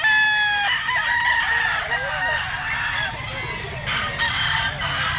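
A rooster crows loudly and close by at the Grotto pet tiange market, a long drawn-out call among other clucking fowl, with a second crow starting near the end.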